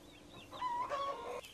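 A hen clucking in a farmyard, a few short rising calls then louder bursts of clucks, close and fairly loud with no talking.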